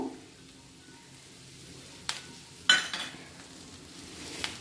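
Baby potatoes fry quietly in a pan while a spoon stirs them, a faint sizzle underneath with a few sharp scraping clinks against the pan.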